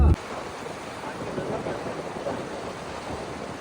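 Steady wash of high-tide sea waves close by at Murud-Janjira fort, with a constant rushing roar and some wind buffeting, and no clear breaks between surges.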